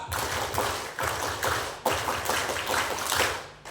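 A group claps together in the Indonesian Scout clap, a fast rhythmic pattern, loud and close, with sharp regular accents and brief breaks between phrases, at a credit union's annual meeting.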